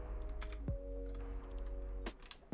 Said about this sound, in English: Oh, whoops, I'm typing.